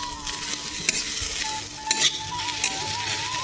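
Onions frying in a pan with a steady sizzle throughout, broken by a few sharp stirring scrapes and utensil clinks, close and fairly loud with no talking.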